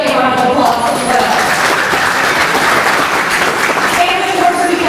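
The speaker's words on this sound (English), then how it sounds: "Let's give them a round of applause as well." An audience at an annual community banquet claps in a steady, full round of applause, with faint voices and murmurs mixed into the clapping.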